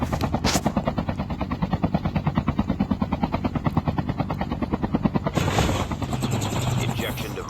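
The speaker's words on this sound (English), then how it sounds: "So we're going to go lay this helicopter down." Rapid rhythmic thudding of helicopter rotor blades in Call of Duty: Mobile, steady and close, with a brief burst of higher noise partway through and a rising engine whine near the end.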